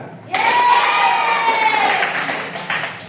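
A small group of children clapping in a classroom civics lesson role-play, a brief burst of applause with a sustained tonal whine layered over it, fading slightly toward the end.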